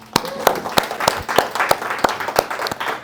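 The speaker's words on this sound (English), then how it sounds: "Anyone clap it up for them, please?" A small audience at a solidarity and collective struggle talk claps for a few seconds, with sharp, fairly loud hand claps ringing out over the room's steady background patter.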